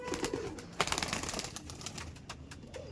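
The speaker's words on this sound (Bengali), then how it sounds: "এই দেখুন এটা হচ্ছে ফিমেল পায়রা।" A female pigeon released from the hand at a pigeon loft gives a short burst of wing flutter and clicking clatter, fairly faint and close.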